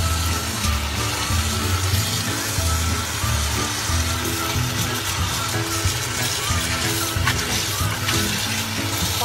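Cold running water pours from a tap over blanched vegetables, a continuous hissing splash with faint clinks and a low background hum throughout.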